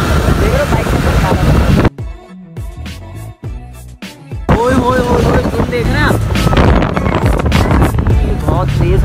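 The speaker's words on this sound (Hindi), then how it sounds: "बहुत तेज़ हवा चल रही है" Strong wind buffets the microphone on a boat trip on the Chenab river, a loud roaring rumble that drops away briefly and then returns, with voices talking over it.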